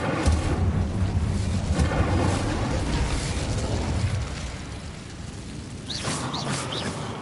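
Incendio, a fire spell cast in the video game Hogwarts Legacy, erupts as a roaring, rumbling burst of flame that swells and then slowly fades, followed by a few lighter crackling pops.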